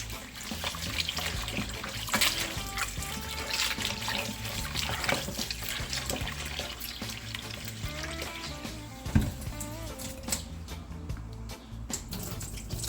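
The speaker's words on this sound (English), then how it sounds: "I'm washing my meat now guys in my lemon and vinegar water" Running water splashes steadily in a sink as goat meat is rinsed in lemon and vinegar water and handled, with occasional clunks and sloshing throughout.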